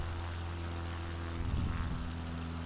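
A steady propeller-plane engine drone from Microsoft Flight Simulator 2020 hums throughout, with a brief swell in the middle; no voices.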